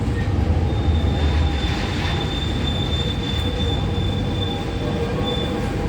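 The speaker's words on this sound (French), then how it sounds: "Et là il y a un RER direction Cergy-le-Haut" Paris RER suburban train at Châtelet station, a loud, steady rumble of rolling wheels with a sustained high squeal running through most of the stretch, close and continuous with no voices.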